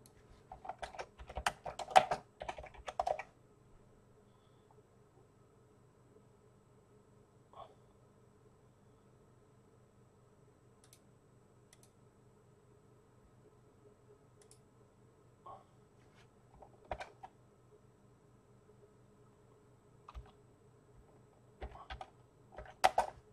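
Scattered bursts of computer keyboard typing in a quiet room: a quick flurry of clicks at the start, then isolated taps and short runs of keystrokes over a steady low hum.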